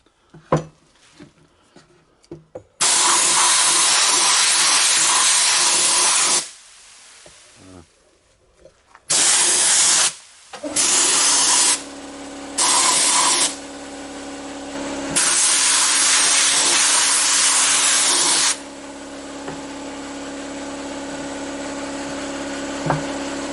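Sandblasting gun blasting coarse abrasive grit onto a workpiece, a loud sustained roaring hiss in several long bursts separated by short pauses, with softer background noise between blasts.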